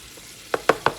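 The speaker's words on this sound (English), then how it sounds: "I'm just gonna go on and finish frying the remaining of my chicken" Chicken frying in a home-kitchen pan with the burner on setting 7 gives three short, sharp sizzling bursts close by, evenly spaced over a faint, quiet background.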